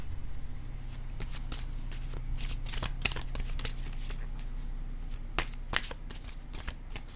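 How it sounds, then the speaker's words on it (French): Oracle cards being shuffled by hand, a series of crisp riffling and slapping bursts over a low steady hum, close and moderately quiet, with no talking. "Je vais piger une carte, un message de l'univers."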